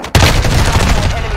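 A new pistol fires in a shooter video game, opening with a sharp loud onset and then dense sustained rapid gunfire for over a second.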